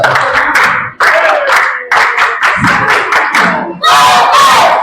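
Children chant and clap in rhythm as a church Sunday school group, loud and near, with shouted bursts and sharp claps repeating in short phrases.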